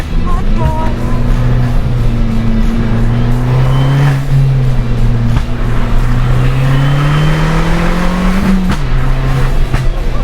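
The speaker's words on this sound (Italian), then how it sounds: "Senti le gomme." An Abarth car drives along, its engine droning steadily with a rising and falling tone and a loud, continuous tyre and road roar close by.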